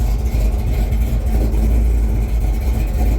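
An old car engine, back running after four years off the road, drones steadily and loudly with cooling fans on, a low continuous rumble with slight revving swells throughout.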